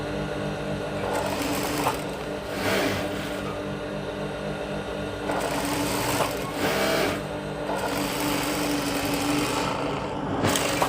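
A sewing machine runs steadily while stitching cloth, a loud continuous mechanical whir that surges and eases in several short bursts, heard alone without any talking.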